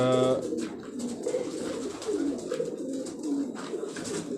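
Pigeons coo softly in a steady, low, rolling murmur on a Karachi rooftop, quiet and continuous across the moment.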